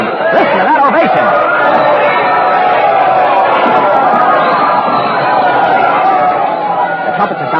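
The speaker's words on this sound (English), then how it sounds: "The crowd has seen her. They're cheering. Listen to that ovation." A large crowd roars and cheers in an ovation for Queen Elizabeth I before the Armada, a dense, steady wall of voices held at full volume throughout, with individual shouts rising out of the mass.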